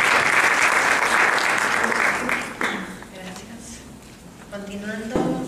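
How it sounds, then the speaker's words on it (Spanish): Strong audience applause welcoming a speaker in a lecture session, loud clapping that thins out after a few seconds as a voice begins talking over its tail. "a quien lo recibimos con un fuerte aplauso nuevamente"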